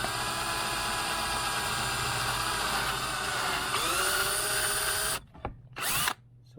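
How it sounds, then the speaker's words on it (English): Power drill boring a small starter hole about an eighth of an inch deep for a screw bolt, a close, loud continuous whine that shifts pitch partway through, then stops and restarts briefly before ending. "Let's drill that hole."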